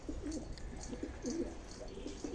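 Pigeons coo in repeated low, throaty phrases close by after being released from their coop, steady rhythmic calls with faint higher chirps over a constant background.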